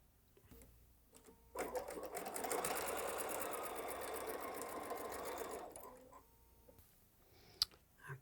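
A sewing machine stitches a quilt block seam for a Peppermint quilt block, starting after a few soft clicks and running as one fast, even mechanical whirr for about four seconds before stopping, close and fairly quiet.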